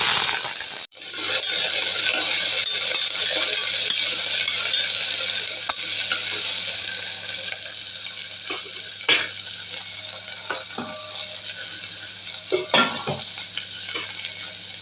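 Garlic cloves sizzle in hot oil in a pan, a steady bright frying hiss with occasional clinks and scrapes of a stirring spoon against the metal.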